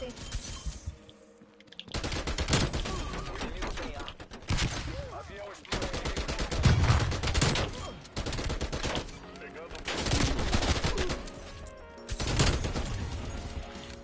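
Repeated loud bursts of automatic gunfire in a Call of Duty Cold War multiplayer match, separated by brief lulls, with occasional breaking sounds and some voice underneath.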